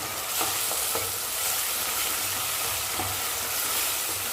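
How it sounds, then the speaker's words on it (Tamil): Tomatoes and onions sauté with rock salt in a pan while preparing sambar, giving a steady, close sizzle broken by a few soft stirring strokes, with no talking. "தக்காளி வெங்காயம் நல்லா வதங்கி வரட்டும்"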